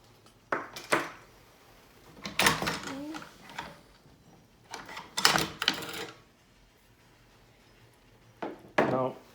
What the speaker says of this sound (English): pushing this little button in, taking this up. We're gonna disassemble this shotgun